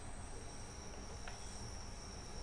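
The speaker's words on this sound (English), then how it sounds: "You can hear the track sounds." Rail track noise of a BR Class 314 electric train in Train Sim World 2 on the Glasgow Cathcart Circle, a steady low rumble with a constant high whine running through and one brief click midway, fairly quiet throughout.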